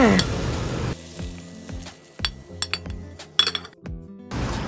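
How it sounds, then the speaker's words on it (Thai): Sesbania flowers are stir-fried in oil in a pan, a sizzle running under repeated sharp clinks and scrapes of a utensil against the pan, loud and close. "เท่านี้เราก็ได้ดอกแครผัดน้ำมัน"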